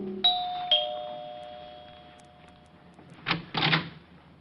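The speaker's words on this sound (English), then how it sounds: "rang the bell to Helen's apartment" An apartment doorbell chimes with two bright, sustained tones in a radio drama, followed a few seconds later by faint clicks and rattles like a door being handled, all fairly quiet against a soft background hiss.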